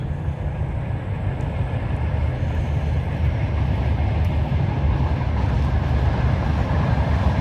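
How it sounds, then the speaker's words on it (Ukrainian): A train rolls past on a nearby railway beside a garden centre in Lviv, Ukraine, a steady loud rumble with heavy low-end roar lasting throughout, no voices over it. "Там потяг поїхав, недалеко залізна дорога."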